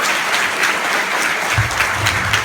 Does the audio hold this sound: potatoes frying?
no